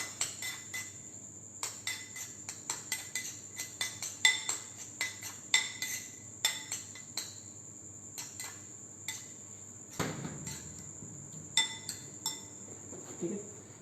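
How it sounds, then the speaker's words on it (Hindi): Leftover vegetables being mixed with mayonnaise in a bowl, giving a steady run of quick clinking and scraping strokes of a utensil against the bowl, fairly close, with a faint high continuous tone behind. "इसको मिक्स कर दो आप।"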